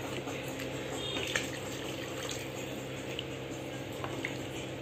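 Water is poured from a vessel into a cooking pot for wheat semiya upma with capsicum, a steady close splashing stream that runs continuously and alone.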